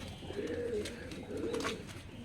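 Rajshahi Giribaz pigeons kept indoors in a room coo in low, soft, rolling phrases, two drawn-out calls over a steady background hum, with faint higher chirps mixed in.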